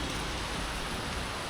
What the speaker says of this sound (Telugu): మొత్తం రాళ్ళ వర్షం పడుతున్నది